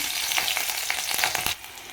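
Chopped green chilies drop into hot oil with tempered spices like cumin and mustard seeds, a loud bright sputtering sizzle with a few stirring scrapes that quickly settles to a softer hiss.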